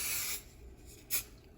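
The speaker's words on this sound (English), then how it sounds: "I'm gonna spray a little adhesive spray on the back of each one." Adhesive spray from an aerosol can is applied to the back of cut applique fabric pieces: a short close hiss at the start, then a second brief burst a moment later.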